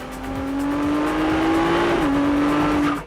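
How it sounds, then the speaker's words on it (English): A Ferrari 296 GTB hybrid with a V6 engine roars loudly and steadily, its engine note climbing, briefly dipping near the end, then cutting off. "Ferrari unveiled a new hybrid electric car on Thursday, but it still has the distinctive roaring engine sound."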